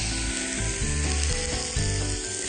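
Fortified Italian wine reducing in a hot pan, a dense, loud sizzle and bubbling simmer heard close up over a low rumbling hum, with no speech.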